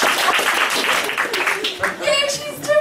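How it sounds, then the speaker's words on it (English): Audience applause at a live spoken-word comedy performance in a small venue, steady dense clapping filling the room with cheers and voices mixed in throughout. "We clap for diversity!"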